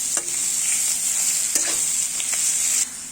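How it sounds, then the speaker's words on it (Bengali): Crushed ginger and garlic sizzle steadily in hot oil in a pan, close and loud, with a few soft scrapes of a spoon stirring through the hiss. "আবারও ভালোভাবে নাড়তে থাকবো।"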